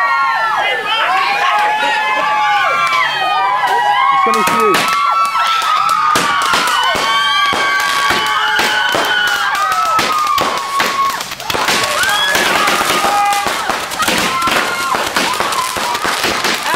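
A 60-shot fireworks cake erupts at a New Year's Eve celebration, with rapid loud bangs, crackles and whistling shots overlapping for many seconds while people shout and chatter nearby.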